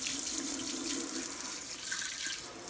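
A steady, loud hiss of water spraying from a hose onto a dusty fan, continuous for the whole stretch with no voices.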